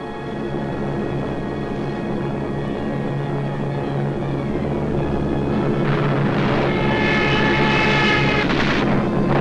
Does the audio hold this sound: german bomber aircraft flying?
yes